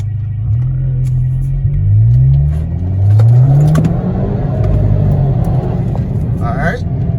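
An Audi car accelerating hard in valet mode, its low engine note rising in pitch through a couple of pulls, heard loud from inside the cabin with a steady rumble throughout.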